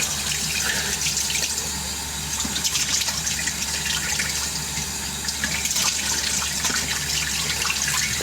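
A sink faucet runs steadily with close, continuous splashing and gushing water, no talk over it.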